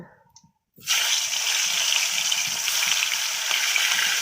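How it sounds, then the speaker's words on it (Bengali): Young jackfruit pieces dropped into hot oil in a home kitchen: after a brief quiet moment a loud, steady sizzle bursts up and keeps hissing evenly to the end. "এবার আমি এঁচড়টাকে ভেজে নেব।"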